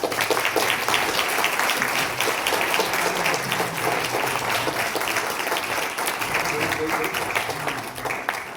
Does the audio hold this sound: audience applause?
yes